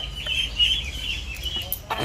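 Ducks cluck and squawk close by in short, scattered bursts over a low background rumble.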